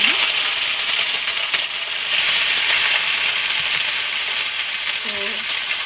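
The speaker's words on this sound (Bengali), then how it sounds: "এবার দিয়ে দিচ্ছি ফুলকপি," Cauliflower and potato with green chillies frying in hot oil in a wok, a loud, continuous hissing sizzle close up, with a brief scrape of stirring near the end.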